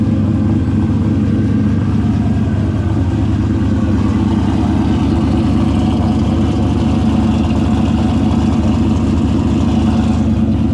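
A hot rod car engine idles steadily and loudly while warming up before drag racing, with a deep, even rumble that holds throughout without revving.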